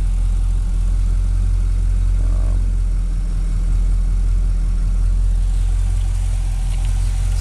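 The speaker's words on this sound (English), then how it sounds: "Here's the LS3 engine." A 2009 Chevrolet Corvette's LS3 V8 with headers and aftermarket exhaust idles steadily and loudly with a deep low rumble, running continuously without revving or pauses.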